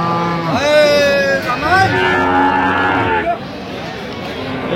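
A cow, likely a dairy cow, moos loudly and close at a busy village cattle market, two long drawn-out lowing calls in a row with crowd noise behind them.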